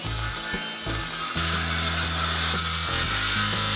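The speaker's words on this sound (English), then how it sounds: "cuts back the plywood to the edge of the siding" Power saw cutting through plywood and styrofoam wall sheathing beside old siding, a loud continuous buzzing grind that shifts pitch as the blade loads and eases, close up with no talk.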